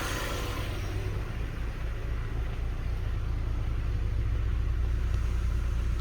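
A Mazda Miata engine idles steadily up close, with a continuous low, throbbing rumble and no talk, the car just reassembled after a missing PCV valve caused smoking.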